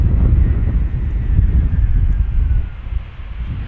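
A Lufthansa airliner arriving from Munich at Amsterdam Schiphol Airport, its engine roar a steady low rumble mixed with wind buffeting the microphone, easing slightly toward the end.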